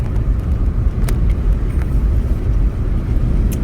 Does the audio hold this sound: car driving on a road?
yes